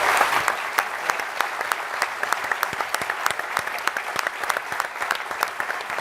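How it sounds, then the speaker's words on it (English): A large audience at a Toronto mayoral housing debate applauds for the six candidates, a steady wash of many hands clapping at close range with sharp individual claps standing out throughout. "Please join me in a huge round of applause for all 6 candidates."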